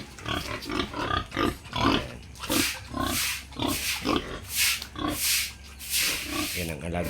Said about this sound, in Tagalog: Yan ang alaga nila, baboy.